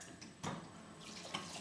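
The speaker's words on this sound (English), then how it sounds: "you're gonna rinse the squash out with water." Tap water runs into a hollowed-out squash to rinse it, making a steady, soft splashing hiss close by with a couple of slightly louder gushes.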